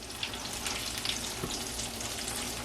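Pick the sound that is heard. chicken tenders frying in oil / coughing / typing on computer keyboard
chicken tenders frying in oil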